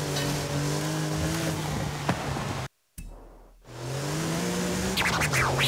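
Racing cars in Forza Horizon 5 with a steady droning engine tone, a brief cut to silence midway, then the engine returning and tires squealing near the end.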